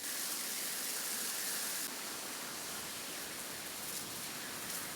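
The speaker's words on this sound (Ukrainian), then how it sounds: "Поки місце умовної пожежі гасять, труби нафтоперекачувальної станції охолоджують водою." Water sprays steadily onto the pipes of an oil pumping station during a fire drill, a dense continuous hiss like heavy rain that holds at an even level throughout.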